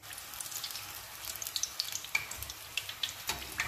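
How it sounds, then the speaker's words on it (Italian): Neapolitan pizza fritta dough fries in hot oil with a quiet, steady sizzle broken by scattered small crackles and pops, heard close without any talking. "ed una ad una preparo le altre e man mano le friggo"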